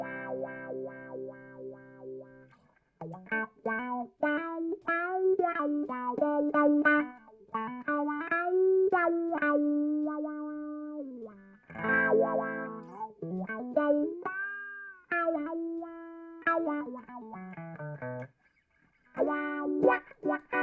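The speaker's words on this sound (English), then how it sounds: "it's like your guitar is saying wah wah" An electric guitar plays through a wah pedal, its sustained notes sweeping up and down in a vocal, talking-like tone across a long run of phrases with brief gaps, clear and alone with no talking.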